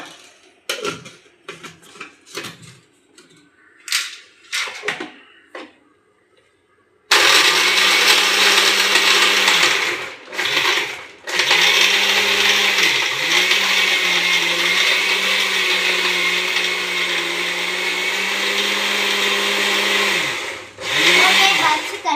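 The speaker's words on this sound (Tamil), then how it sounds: "வாங்க மிக்ஸியில் போட்டு அடிச்சுக்கலாம்." A few soft clinks and handling noises, then a mixer grinder blending ice and sweet lassi whirs loudly and steadily, briefly pausing twice before running again.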